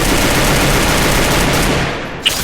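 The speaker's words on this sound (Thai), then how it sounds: "เสียงปืนนี่ดังลั่นหูเลย" Dense, continuous rapid-fire gunfire in the video game Free Fire MAX roars loud and close, a sustained automatic volley that barely lets up before trailing off.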